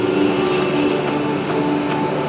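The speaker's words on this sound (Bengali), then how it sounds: "আমাদের মুখের সামনে দিয়ে একটা ট্রেন চলে গেল" A train rolls past at close range on a rainy day, making a loud, steady, continuous rumble and roar throughout.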